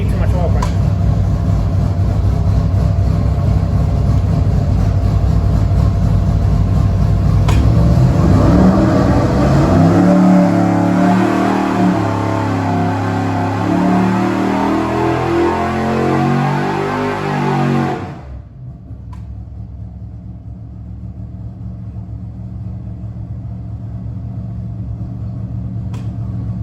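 A 356 cubic inch Gen 1 small block V8 on an engine dyno sweeps steadily from 4000 to 6000 RPM, a loud, close, rising roar that cuts off abruptly to a low idle-like hum.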